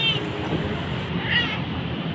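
A street cat meows a few times, the calls fairly close and standing out over a steady background hum with faint voices.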